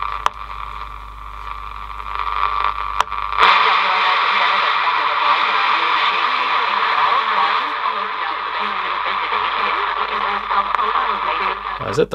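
A 1963 AWA B31 transistor radio with a fault that stacks stations on top of each other plays a loud, dense jumble of overlapping broadcasts and hiss, starting quieter and swelling after a few seconds, with clicks.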